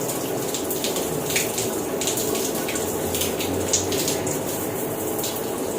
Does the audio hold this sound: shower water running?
yes